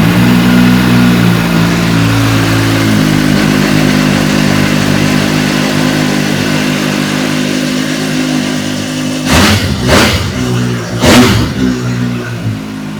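Triple-engine motorcycle, a 2009 bike among auction arrivals, idles steadily up close and then gives two sharp, loud revs near the end.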